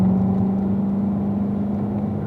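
A Corvette Grand Sport on a racetrack holds a steady, droning engine note with a constant low hum as it accelerates back up to speed, loud and close from inside the car, no talking.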